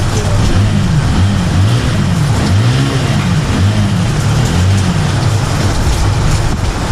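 A Falcon Rocket 250cc motorcycle engine runs steadily and loud up close, a deep throbbing rumble with slight rhythmic swells in pitch, as if idling or blipping gently.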